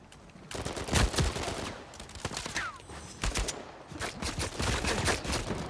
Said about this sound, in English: someone's getting shot up